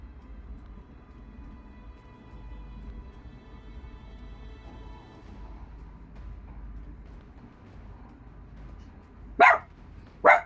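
A dog gives two sharp, loud barks close by near the end, after a long stretch of low, quiet background hum.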